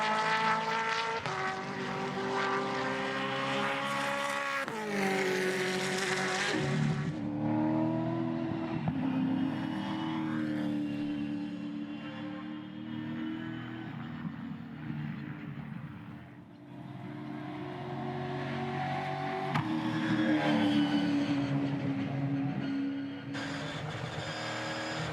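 Gen3 Supercars race car at Bathurst, a loud, continuous engine note that rises and falls through gear changes as the car runs around the circuit, with no talk over it.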